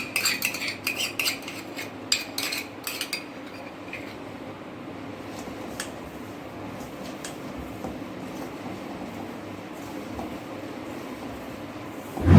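A utensil clatters and scrapes against a bowl while cumin puri dough is mixed, a quick burst of metallic clinks at first that trails off into quiet, occasional taps.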